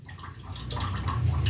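Water poured from a measuring cup into a pot of washed rice for cooking, a short steady splashing pour close by, with no talk over it.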